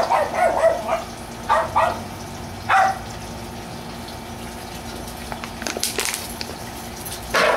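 Several dogs bark in short bursts at a moderate distance, with pauses between, over a low steady hum.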